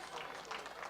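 A crowd applauds at a college football game as an injured Viking player gets back up, giving faint, distant, steady clapping that runs throughout.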